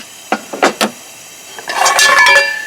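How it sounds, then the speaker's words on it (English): Three quick metallic clinks, followed by a longer scraping rattle of a small folding-handle frying pan and bowl knocking together in a Dutch oven, close and fairly loud, in a canvas tent hunting camp. "In the Dutch oven I got stored another little frying pan with a folding handle"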